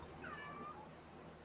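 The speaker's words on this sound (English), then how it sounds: "I hear a kitty in the background." A house cat meowing in the background, one drawn-out rising and falling meow, faint and distant, with no talking over it.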